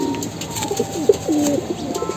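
Pigeons coo in a loft, giving a few soft, close, throaty calls over a low background hum.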